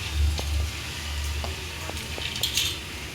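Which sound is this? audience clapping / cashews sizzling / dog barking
cashews sizzling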